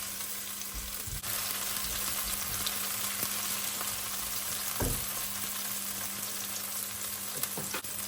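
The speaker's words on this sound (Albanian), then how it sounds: "Do t'i skuqim me 2 lugë vaj ulliri qepët" Green onions fry in two spoons of olive oil in a pan, a steady, dense sizzle continuing throughout with occasional soft stirring knocks, no talking.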